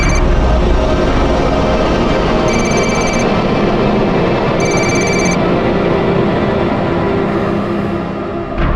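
A telephone rings loudly in repeated bursts, with several electronic rings spaced a couple of seconds apart over a dense, steady background.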